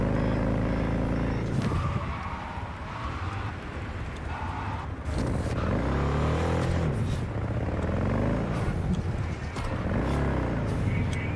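Car driving in Cyberpunk 2077, a futuristic open-world game, with steady engine drone and shifting revs as it rounds a bend, loud and continuous, with someone talking over it part of the time.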